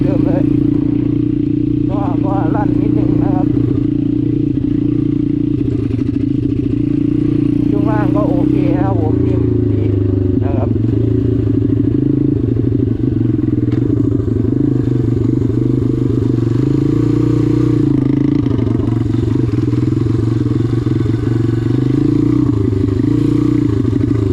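A GPX RX140 motorcycle is ridden normally, its engine a loud, steady close-up drone throughout with slight shifts in pitch, while someone talks over it.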